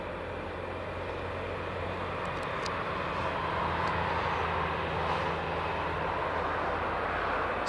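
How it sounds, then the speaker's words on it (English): GE90 engines of a Boeing 777 spool up at Newcastle Airport with a steady, broad roar and a low droning hum. The sound stays loud and constant throughout, heard from outside with no talking. "Now we get to hear the GE90 engines of this 777 starting up."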